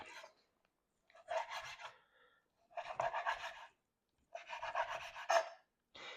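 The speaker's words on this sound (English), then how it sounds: "I'm going to slice it across about a finger wide" A sharp knife saws through stacked bacon strips on a cutting board in three separate bursts of rasping strokes, close and clear, with short pauses between them and no talking.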